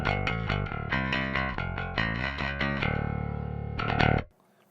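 Bass guitar plugged in direct with no pedal, a close, loud run of punchy plucked notes and chords that rings out and stops abruptly near the end.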